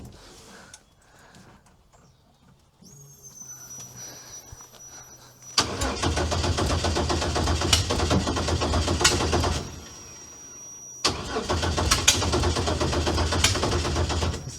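A Toyota Camry engine cranks and catches, then runs loudly at a rough idle, with a short dip in level before it revs back up to a steady, close running sound.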